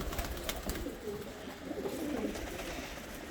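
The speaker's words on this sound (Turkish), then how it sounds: "Şurada öten bir erkeğimiz var." A young male pigeon coos in low, soft, repeated rolling phrases nearby in a loft, with faint background noise and occasional light clatter.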